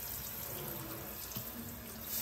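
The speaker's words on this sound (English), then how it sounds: "Give it once over with the sprayer." A powerful kitchen faucet sprayer rinsing out a sink, giving a steady, close rushing hiss of water that continues for the whole stretch with no voices over it.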